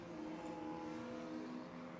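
A Lotus Elise race car in a club championship runs through a corner at Anglesey circuit, its engine a steady, fairly distant hum and drone with little change in pitch.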